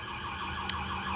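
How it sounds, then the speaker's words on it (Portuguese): A siren wails near a hospital and fire station, its warbling tone cycling steadily and fairly loudly through the whole moment with no talking. "desculpa pela sirene, mas eu moro perto de um hospital e de um corpo de bombeiros"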